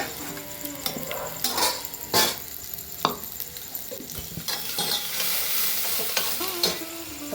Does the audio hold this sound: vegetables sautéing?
yes